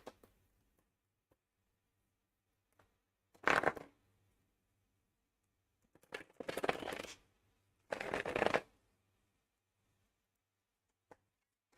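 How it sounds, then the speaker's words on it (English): Three short bursts of tarot cards being shuffled, riffling briskly with quiet pauses between, close and fairly soft. "let me shuffle tarot cards here"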